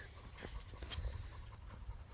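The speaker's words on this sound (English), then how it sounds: "they're about the most inquisitive dog I've ever had in my entire life" A dog pants softly and quickly in a quiet backyard by a chicken coop, with faint rhythmic breaths and small snuffles close to the listener.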